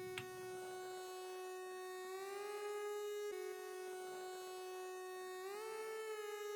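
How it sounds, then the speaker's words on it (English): A long, whiny synth lead one-shot holds a sustained bright tone whose pitch slides upward twice into higher held notes. Steady and quite faint, heard alone with no voices. "this one-shot lead that is just like a long whiny lead"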